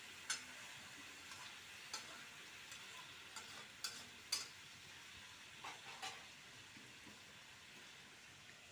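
Ridge gourd and potatoes stirred in a pan, faint soft scraping and light sizzle with a few scattered clicks of the spatula against the pan, quiet and steady with no talk.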